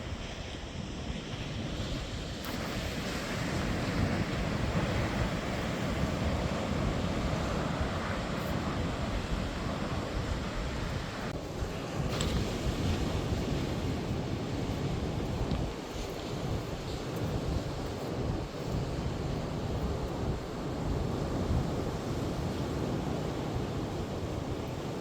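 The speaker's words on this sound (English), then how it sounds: "I think it's an offshore wind today, which is nice." Steady wind and surf roar at the sea off Gansbaai on an offshore-wind day, a continuous broadband wash of waves with microphone buffeting and no talk.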